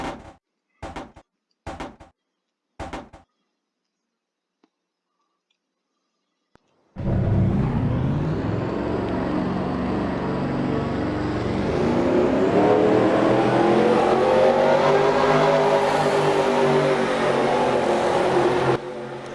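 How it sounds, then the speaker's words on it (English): Four short knocks, then silence, then a loud sustained roar of several video game race car engines starting up and revving together. "Drivers, start your engines!"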